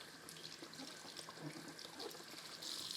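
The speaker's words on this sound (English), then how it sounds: "first thing we're going to do with cold water is wash the eggplant" Cold tap water runs steadily over an eggplant being washed, a faint close stream with soft splashing and no talking.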